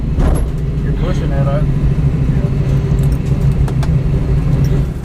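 A Ford SN95 Mustang engine is revving under throttle while the car runs a slalom, making a loud, continuous rumble up close that holds steady throughout.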